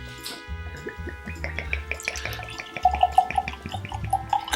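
Redemption Barrel Proof 9 Year straight high rye bourbon poured from the bottle, a close run of liquid glugs and small splashy drips building to a few louder gurgles near the end.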